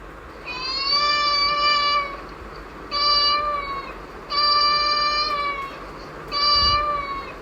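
A cat's meow played back by a smart speaker, four drawn-out tonal meows in a steady rhythm with short pauses between them, clear and close with a faint background hum.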